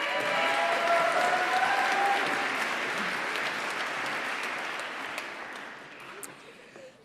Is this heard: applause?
yes